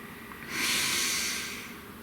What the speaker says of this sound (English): be breathing. Breathe.